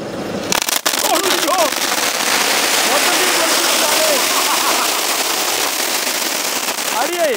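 Diwali firecrackers set off by a family outdoors, a steady loud crackling barrage with whistling bursts and sharp pops, a sudden bang near the start, and voices faint beneath.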